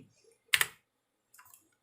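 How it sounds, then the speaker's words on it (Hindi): A few sharp key clicks on a computer keyboard, a short double tap followed later by a softer cluster of presses, as shortcut keys are pressed while working in Photoshop 2021. "और फिर से अपने कीबोर्ड से कंट्रोल प्लस करेंगे इस तरह"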